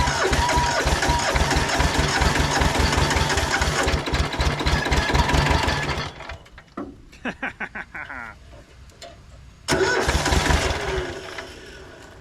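A three-year-old Hinomoto diesel tractor with glow plugs fires and runs roughly with loud, rhythmic knocking, then stumbles into uneven puffs and chugs before catching again at full loudness; the engine seems to run on one cylinder.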